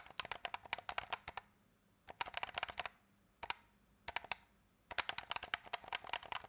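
Rapid clicking of DualSense controller buttons during Sekiro boss fights, sounding much like keyboard typing, arrives in three dense bursts separated by quiet gaps and a lone click, fairly faint and close with no talking.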